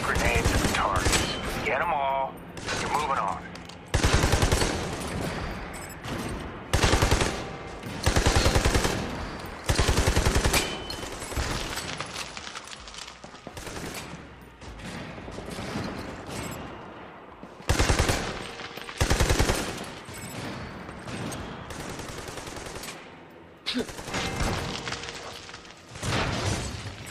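Blind-fire gunshots and grenade blasts in Army of Two: The Devil's Cartel, loud bursts of rapid gunfire in repeated volleys separated by quieter gaps, with booming explosions and some voices in the mix.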